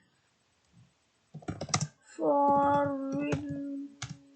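Short bursts of computer keyboard keystrokes click close by, a few quick taps at a time separated by pauses, alongside a brief voiced tone.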